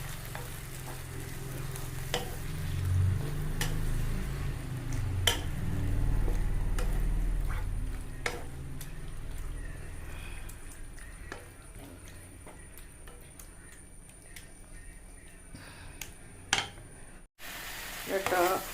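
Squid frying in oil in a pan with chilli, a steady close sizzle with scraping stir strokes and occasional clinks, fading later before a brief cut.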